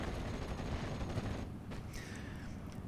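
Gunfire from a Stuart tank engaging a half-track and infantry in the Steel Division: Normandy 44 game, heard as a dense rumbling barrage that thins out midway, leaving a lower continuous wash with faint later shots.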